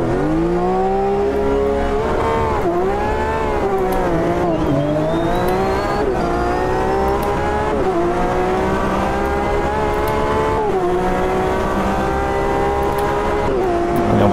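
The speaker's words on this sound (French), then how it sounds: "on va partir sur une petite course de 10 tours sur ce circuit de Long Beach avec les trois véhicules différents" GTE race cars racing at Long Beach in the video game Automobilista 2, a loud, continuous engine roar rising and falling through gear shifts and revs, with several cars droning together close by.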